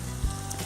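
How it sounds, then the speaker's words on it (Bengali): Loitta fish pakoras frying slowly in oil over a low flame, a steady soft sizzle with a brief deeper bubble near the start, close by and fairly quiet, with no talking. "এবার আমরা এটাকে আস্তে আস্তে ভেজে নেব"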